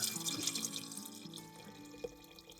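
Water is poured into a pot of pressure-cooked local chicken for a curry: a quiet, continuous splashing trickle that gradually softens.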